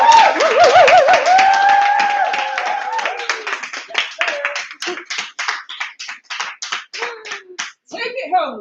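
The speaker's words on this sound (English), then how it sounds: "can we give a round of applause as he comes up" Audience applause at an African & Caribbean Society mental health conference: after a few seconds of whoops and raised voices, a burst of hand clapping rises and thins into scattered claps near the end.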